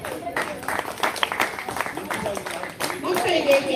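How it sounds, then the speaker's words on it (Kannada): Children at a summer camp receive applause from a gathered group, a burst of scattered, uneven hand claps close by, rising and falling over a few seconds with voices mixed in. "ಒಮ್ಮೆ ಜೋರಾದ ಚಪ್ಪಾಳೆ."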